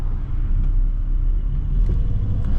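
A Volvo car engine gives off a steady, deep low rumble that holds at an even level throughout, close by and fairly loud, with no voices over it.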